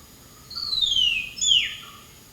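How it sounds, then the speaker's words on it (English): A hill myna gives a single loud whistled call, a sweeping descending note followed by a brief rising second phrase, heard alone and close. "let us listen to the call of the hill myna"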